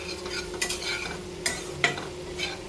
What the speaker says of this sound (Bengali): আর এবার ভালো করে আমি আলুটাকে নেড়ে চেড়ে দেবো।